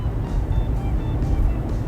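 Nissan Fairlady Z RZ34 with its VR30DETT twin-turbo V6 pulls hard under acceleration, a steady loud low-pitched engine drone with cabin rumble and no clear peaks throughout.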